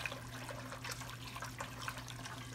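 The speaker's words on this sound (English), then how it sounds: "Now I'm gonna add a little bit more water to this" Water pours into a pot of smothered oxtail gravy, a soft continuous splashing trickle with a low steady hum from the kitchen underneath, no voices.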